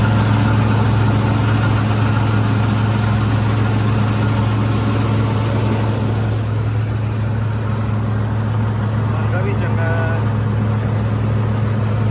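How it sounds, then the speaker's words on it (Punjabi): A Swaraj 969 CRDi tractor engine runs steadily on a farm near an orchard while reaper work for straw is under way, a continuous loud low drone with a constant hum and no voices. "ਟਰੈਕਟਰ ਬਹੁਤ ਵਧੀਆ ਬਹੁਤ ਵਧੀਆ ਚੱਲਦਾ"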